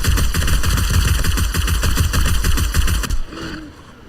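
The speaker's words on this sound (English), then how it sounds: "Let's get the machine gun back out." Machine gun fire from 7 Days to Die rattles in a rapid, steady automatic burst lasting about three seconds, loud and close, then stops abruptly, leaving faint background sounds.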